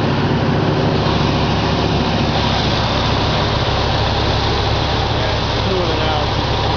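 A 1978 Mercury Marquis Brougham engine burning oil and running on fast idle, giving a steady, loud, close drone that holds unchanged throughout.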